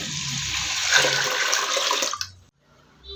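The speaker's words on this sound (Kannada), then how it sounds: "ಸ್ವಲ್ಪ ಜಾಸ್ತಿನೇ ನೀರು ಹಾಕ್ಕೊಳ್ತಾ ಇದ್ದೀನಿ" Water pours steadily into a vessel for about two seconds, then stops abruptly, leaving near silence.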